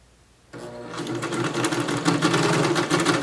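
Sewing machine stitching elastic onto a swimsuit, starting after a brief quiet moment and running steadily at close range, its motor hum and rapid needle clatter growing slightly louder and more insistent.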